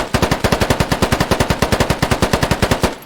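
Rapid automatic AKM rifle fire in a Middle East Escalation mod for the Squad video game: a steady, evenly spaced burst of roughly two dozen loud, close shots over about three seconds, with no talking.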